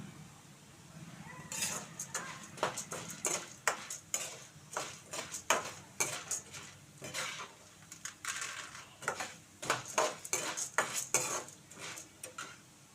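Ingredients for karam podi dry-roasting in a pan, stirred with a metal spoon that scrapes and taps the pan in quick, repeated strokes over a faint sizzle, fairly close and quiet.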